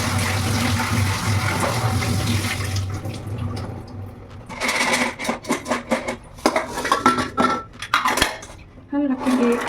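Chickpeas being drained and washed in a metal pot in a home kitchen: running water pours at first, then comes a series of clattering, sloshing knocks of pot and utensils, close and fairly loud.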